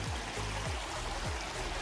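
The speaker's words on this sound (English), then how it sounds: "We are still walking next to this little stream" A small stream flows steadily beside a walking trail near waterfalls, a continuous broadband rush with a few low thumps, heard close and without talk.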